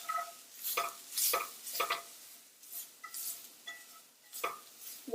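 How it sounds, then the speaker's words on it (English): Whisk stirring tapioca flour into hot sausage grease to build a roux for paleo gravy, a soft repeated scraping and swishing around a pan at an uneven rhythm, faint and close, with no talking. "So you just use a whisk to kind of whisk that flour"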